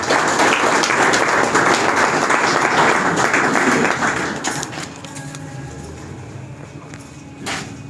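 Loud, dense applause from an audience welcoming Captain Afaq at the opening ceremony of Ogi Public School and College, sustained for about four seconds and then thinning into scattered claps and room murmur.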